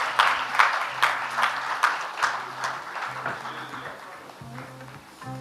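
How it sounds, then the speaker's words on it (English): Audience applause at an award ceremony during an international packaging industry summit, a steady wash of clapping that slowly fades, with a faint low tonal hum underneath. "Kindly keep the applause going."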